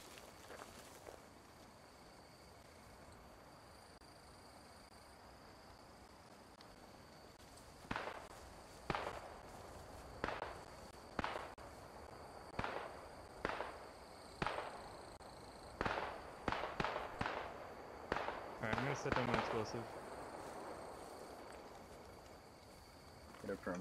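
Single gunshots in the Post Scriptum night mission fire at roughly one-second intervals after a quiet opening stretch. The sharp cracks sound mid-distance over a low ambient hiss.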